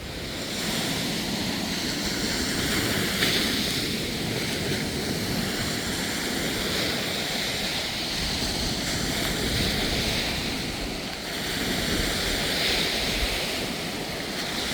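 Waves wash steadily onto a Lake Michigan beach at Grand Mere State Park near Stevensville, Michigan, under gusty wind. The surf makes a constant broad rush with gentle swells and no voices.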